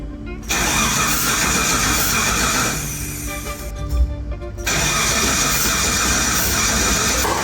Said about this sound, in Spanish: En el primer intento el motor giró pero no arrancó.